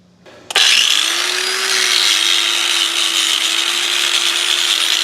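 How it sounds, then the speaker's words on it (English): A power wire wheel grinds rust off the rear brake hub of a 2008 Mercedes-Benz CLS 550, starting abruptly after a quiet moment and holding a loud, steady, harsh whirring scrape with a constant motor hum throughout. "We got the hub wire wheeled off"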